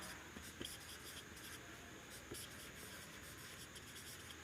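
Marker or chalk writing on a classroom board, faint repeated scratchy strokes with a few sharper taps over a steady background hiss.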